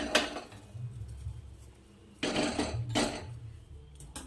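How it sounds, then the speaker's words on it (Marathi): A metal kadhai is set down on a stove burner, giving a few sharp metallic clanks and knocks spread across a few seconds. Faint low rumble sits in between, and no one speaks. "आता आपण यावर कढई ठेवूया"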